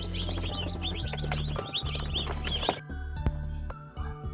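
Broiler chicks cluck and peep continuously as they are lifted from cartons onto a suspended brooding floor, a dense chorus of close chirps over a steady low hum that thins out near the end.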